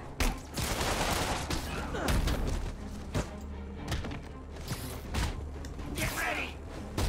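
Enemy gunmen firing in Spider-Man PS4: dense, continuous volleys of gunshots with heavy thuds and mechanical clatter, loud and close, with voices mixed into the chaos.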